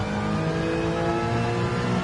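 A car engine in Gran Turismo 7 revs high and steady, its dense harmonic drone holding near the limiter throughout without a break.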